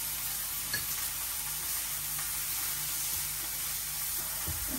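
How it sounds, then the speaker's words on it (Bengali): Shrimp and bottle gourd fry in a pan with turmeric and salt, giving a quiet, steady sizzle with occasional faint stirring clicks. "চিংড়ি মাছটা একটু ভাজা নিতেছি, একটু ভাজা হোক।"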